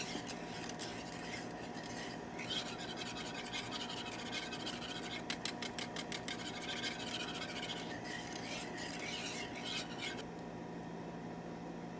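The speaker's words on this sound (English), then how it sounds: "Go ahead and stir this, and you're going to continue to stir it until your jelly comes to a rolling boil for 1 minute." Eastern redbud jelly is stirred in a pot, a faint continuous scraping and rubbing of spoon against metal with a brief burst of quick clicks midway, no speech.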